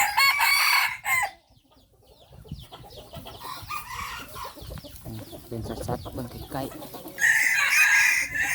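Mixed-breed chickens cluck and crow in the evening, with loud, close crowing bursts at the start and near the end and someone talking in between.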